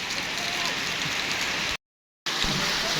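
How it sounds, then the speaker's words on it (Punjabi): Rain falls steadily on a farm shed while water runs off the roof through the gutters, a dense, even patter and splash heard close by. The sound breaks off completely for a moment partway through, then resumes. "ਹੁਣ ਹੋਈ ਆ ਬਾਰਿਸ਼"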